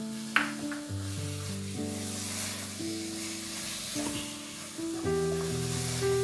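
Grated carrot halwa with khoya roasts in a pan with a steady close sizzle and occasional stirring scrapes, alongside sustained tonal background music and no speech.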